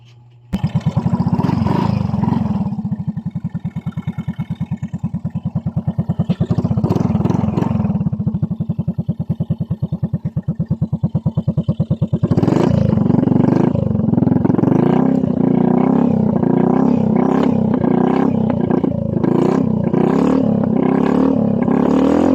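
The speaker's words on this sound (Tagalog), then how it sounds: "So pandarin natin ang motor." A Yamaha Mio i 125 scooter, which smokes white from the exhaust and burns oil, starts up and idles with a steady putter, then revs harder and louder in repeated bursts, close by with no talking.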